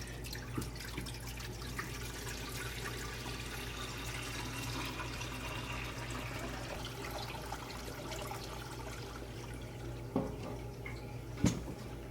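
Water runs steadily into an aquarium tank, a continuous close wash of flowing liquid over low hum, with a couple of faint knocks near the end.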